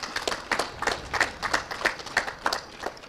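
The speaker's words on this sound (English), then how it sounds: "I request you all to give them a big round of applause" An audience claps for faculty staff at a building launch ceremony, a sparse, uneven patter of hands at moderate distance with no one speaking.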